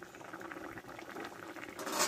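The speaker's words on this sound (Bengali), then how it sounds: "দেখো ঝোলটা আমার ফুটে গেছে" Fish curry broth with slit green chilies and fish roe fritters bubbling in a pot, a steady, faint rolling boil with small liquid pops and no voices.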